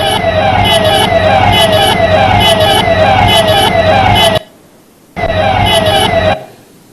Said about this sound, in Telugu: పోలీస్ వాహనం